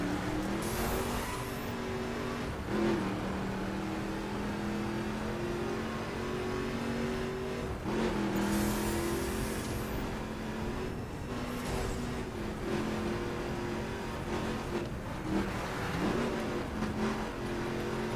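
Motorbike engine in The Crew racing game on the Summit Time Attack track, revving hard and steadily with wheelspin through the low gears; a loud, continuous drone that rises and falls in pitch across gear changes.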